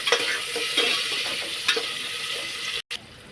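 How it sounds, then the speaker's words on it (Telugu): Onions and green chillies frying in hot oil with whole spices for egg biryani, a steady close sizzle with a few stirring scrapes, ending in a brief cut. "మసాలాలు వేగిన తర్వాత ఇలా ఉల్లి పచ్చిమిర్చి వేసి వేసుకోవాలి"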